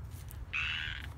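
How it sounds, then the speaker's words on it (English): A loud frog hidden in a bush gives a single rasping, buzzy croak lasting about half a second, heard from a few metres away over a steady low outdoor rumble, with no voices. "And there's our frog. Hear that, guys? That's our frog back there."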